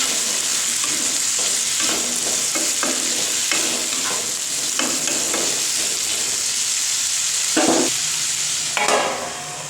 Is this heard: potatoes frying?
yes